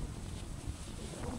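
Strong wind gusts on a farm buffet the microphone in a loud, rough roar, brief and continuous with no voices.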